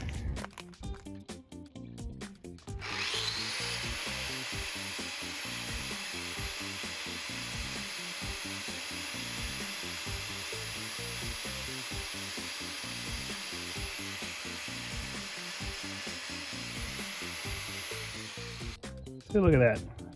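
Old bolts from a fire-damaged Genie being cleaned with a power tool, a steady abrasive whirring and rubbing that runs continuously for most of the span, starting and stopping abruptly.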